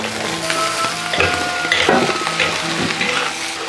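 Potatoes being stirred and fried in a wok with minced pork, rapeseed oil, ginger, garlic, chilies and Sichuan peppercorns, giving a steady close sizzle with scraping spatula strokes throughout.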